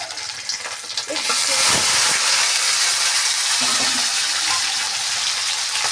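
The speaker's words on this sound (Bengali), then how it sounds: "তেলটা গরম হয়ে গেছে এবার পনিরটাকে আস্তে আস্তে করে আমি ছেড়ে দিচ্ছি" Paneer frying in hot oil, a dense, steady sizzle that swells loudly after a second as the pieces go in, with faint clinks and a little background voice.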